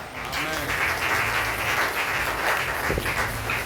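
A church congregation applauds and acclaims the Lord, broad steady clapping and crowd noise filling the whole moment, with voices mixed into the sustained din.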